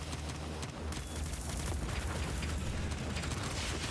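Missile explosions in the video game Dreams, a continuous, dense barrage of booming blasts and crackling fire, loud and unbroken throughout.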